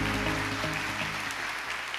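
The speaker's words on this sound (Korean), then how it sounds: "이 시간 나오실 때 큰 박수로 목사님을 환영해 주시기 바랍니다" An audience claps to welcome a pastor onto the stage at a church festival event, with steady applause filling the hall at close range and music tones sustained underneath.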